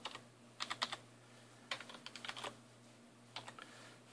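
Someone types a password on a Mac keyboard in short bursts of quiet, close key clicks with pauses between them.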